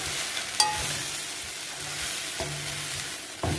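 Chili powder fries in hot oil in a pan with okra, giving a steady sizzle throughout, broken by a few sharp spoon scrapes and taps against the pan, close and fairly loud.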